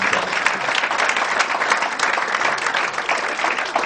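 Loud, close, dense applause from an audience following a panel discussion on understanding China, an even roar of clapping that holds steady from start to finish.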